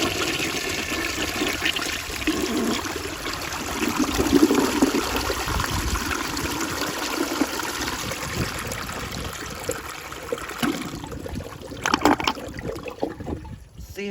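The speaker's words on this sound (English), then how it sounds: "I'm gonna kind of give y'all a blow up flush" A Rheem Claymore toilet flushing in a forced, blown-up flush, with loud continuous rushing water that fades toward a gurgling, sputtering finish as the siphon breaks.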